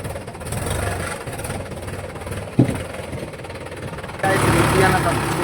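A tractor engine rumbles low and steady after dumping its load of river sand, a continuous throb under people talking, with a sharp knock midway and a louder surge toward the end.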